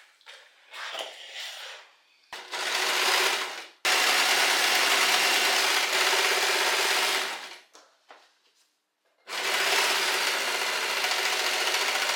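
An electric sewing machine top stitching a denim seam on jeans being turned into a skirt, running in several sustained bursts of steady whirring with short pauses between them, close and alone.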